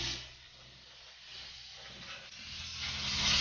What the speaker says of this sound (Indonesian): kita steam, kita uap interiornya